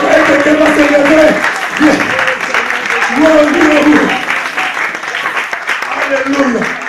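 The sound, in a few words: congregation applauding to acclaim the Lord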